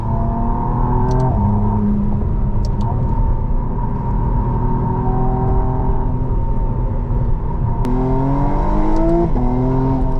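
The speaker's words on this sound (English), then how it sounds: "Oh, those backfires. On partial throttle, it makes such a cool noise." A 2025 McLaren Artura Spider on partial throttle gives a steady, loud engine drone with shifting pitch, broken by a few sharp exhaust pops and crackles throughout.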